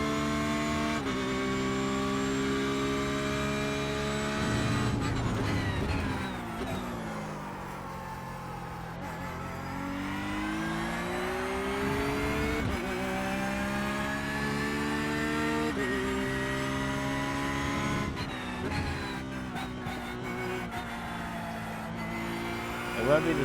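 In iRacing, a Porsche GT3 race car circles the Red Bull Ring with a loud, close engine that revs up and down through gear changes, dropping under braking and climbing again while a voice talks over it.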